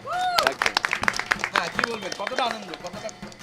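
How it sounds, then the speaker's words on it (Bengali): People at a neighbourhood Durga Puja gathering clap loudly in a burst of close, sharp claps mixed with voices and cheering. "জোরে হাততালি"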